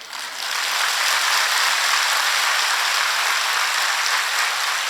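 An audience at a gathering of Hindu saints at a dera claps in sustained, dense applause. It starts quickly and holds at an even, loud level for several seconds with no voices over it.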